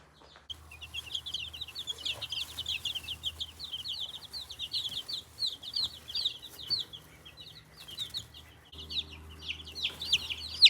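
Baby chicks hatched from backyard hens peep in a brooder, a constant chorus of high, rapid chirps from several birds close by over a low steady hum.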